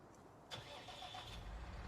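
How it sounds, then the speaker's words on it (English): A tractor engine in Farming Simulator 19 cranks and catches about halfway through, then settles into a faint, steady mid-pitched running sound. "Yeah, so this is my tractor."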